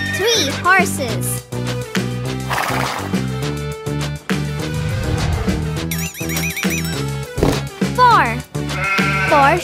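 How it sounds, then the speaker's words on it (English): Sheep bleat in short, wavering cries over a bouncy children's song, with horse-like whinnies and other animal effects mixed into the busy, loud music. "Four sheep."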